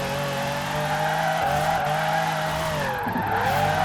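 Tires squeal in a long continuous slide as a Formula Drift Ferrari 599 holds a drift in Forza Horizon 4, under a loud, steady engine drone.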